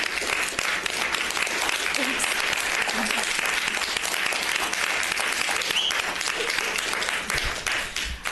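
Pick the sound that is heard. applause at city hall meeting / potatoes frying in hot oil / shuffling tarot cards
applause at city hall meeting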